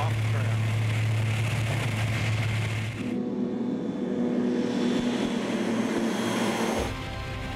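Propeller crop duster airplane droning steadily overhead, loud and close, with its engine tone shifting as it passes; talk runs underneath.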